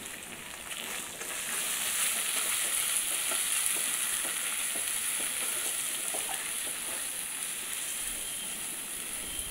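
Egg frying in oil with spiced masala, a dense, close, continuous sizzle with light stirring clicks and crackles throughout, no voices over it.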